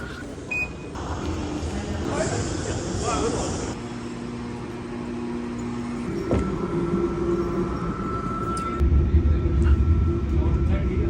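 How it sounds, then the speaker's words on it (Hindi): Train station interior in New Zealand, with a steady rumble of rail traffic and a brief high squeal, some muffled voices in the background throughout. "तो मैं बस ट्रेन स्टेशन के अंदर जा रहा हूँ।"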